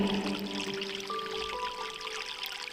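River water flowing steadily, a close continuous pouring and trickling wash, with faint tonal hums running underneath.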